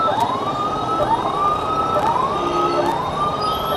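Ambulance siren wailing in repeated rising-and-falling sweeps, steady and fairly loud, while stuck in a flooded traffic jam in Indore, with a constant hum of idling road traffic underneath.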